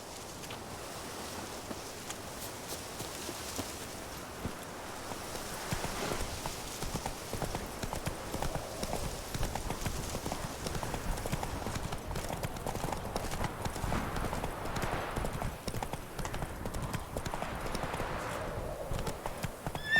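Hooves of Roach, Geralt's horse in The Witcher 3, clip-clop in a steady trotting rhythm over outdoor ground, with soft wind ambience and game sounds behind it.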